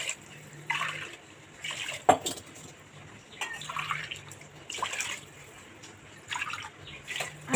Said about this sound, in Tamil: ஃப்ரை பண்ணதுக்கப்புறம் 5 கிளாஸ் வாட்டர் ஊற்றிக்கலாம்.